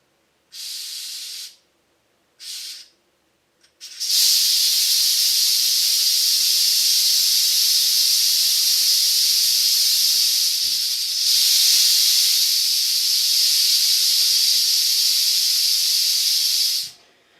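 Gas hissing out of a 1 lb propane bottle through its pressure relief valve: two short bursts of hiss, then a long, loud, steady jet of escaping gas lasting over ten seconds before cutting off.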